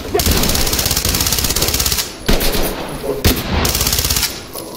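Sustained automatic fire from a P90 submachine gun in the tactical shooter game Ready or Not, loud and close, in long rapid bursts with two brief pauses between them.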